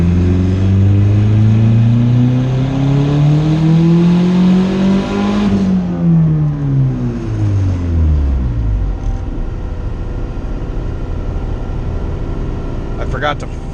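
A single cam Honda-type engine with a long-geared Y7 transmission revs up in third gear on a dyno, pitch rising steadily for about six seconds before dropping away as the engine winds down, loud and close.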